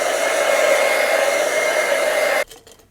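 A hair dryer blows on watercolor paint, a loud, steady whooshing drone close by that cuts off abruptly near the end and leaves faint, quiet handling noises.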